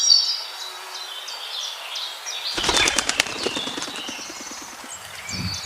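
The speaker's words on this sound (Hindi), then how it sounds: "और दोनों फल लेने के लिए उड़ चलते हैं।" Cartoon birds flap their wings and fly off: a quick run of fluttering wingbeats rises in the middle over light chirping in the background, with no voices heard.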